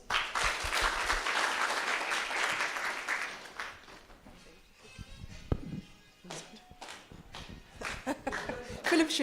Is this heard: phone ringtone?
no